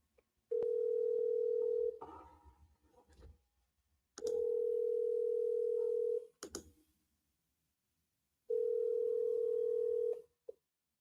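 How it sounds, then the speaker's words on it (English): A voicemail system plays three long, steady electronic beep tones, each lasting about one and a half to two seconds and separated by quiet gaps that hold faint rustling and clicks. "At the tone, please record your message."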